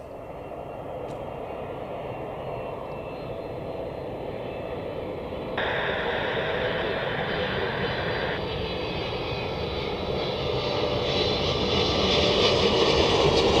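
A Boeing 777 jet airliner passing at Zurich Airport: a steady, loud engine roar that holds for several seconds, then swells and brightens partway through and keeps building toward the end.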